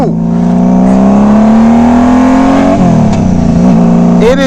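A big, heavy motorcycle engine roars loudly up close, climbing steadily in pitch under hard acceleration before a brief dip and a renewed rev near the end.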